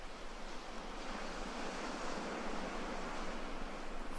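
Ocean surf at dawn off Bali, steady broadband rush of breaking waves with a gentle swell in loudness, continuous and moderately near, with no talking over it.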